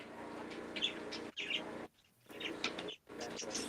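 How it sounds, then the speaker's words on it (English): Birds chirp and coo as they wake up, quiet tweets broken by short gaps, with a soft background murmur. "Oh, the birds are going to start getting active now. Here, they're waking up."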